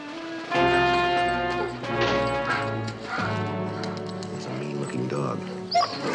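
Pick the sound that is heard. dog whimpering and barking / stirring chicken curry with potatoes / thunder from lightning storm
dog whimpering and barking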